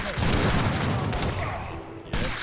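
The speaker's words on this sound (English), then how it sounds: "I think we're gonna use our cannon. Just fire once more if we can." Cannon fire in Age of Empires III during the Battle of New Orleans (1815), a dense burst of booming shots crowding the first two seconds, then a fresh blast near the end, with a voice talking underneath.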